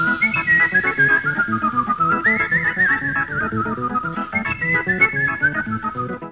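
Melodic whistling carries the lead line of a rock song by a Dutch band, performed live on a TV music show, steady and prominent over full band backing of drums, bass and guitar throughout.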